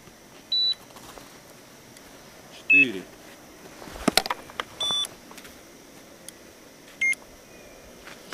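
Short electronic beeps from a DEEPGEOTECH proton magnetometer in a field test sound at irregular intervals over a quiet hiss, with a few clicks and faint handling noise between them.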